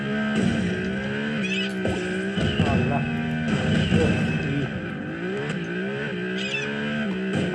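Cartoon buggies in the Beach Buggy Racing video game roar, skid and bump into things, with engine whine, tire squeals and clunks layered continuously while people talk excitedly over the game sounds.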